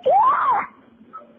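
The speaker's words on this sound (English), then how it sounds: "You can hear children in the background screaming for their parents to wake up." Children scream in the background of a 911 emergency call after their parents overdosed at home in Boynton Beach, one loud rising-and-falling wail lasting about half a second, followed by faint background noise.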